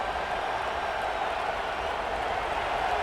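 A steady, dense roar of a large stadium crowd in the video game College Football 26, continuous and even, with no distinct voices standing out.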